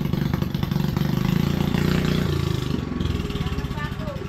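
A small boat's engine idles with a steady, fast-pulsing chug while its carburetor is adjusted, the running note shifting slightly partway through as people talk over it.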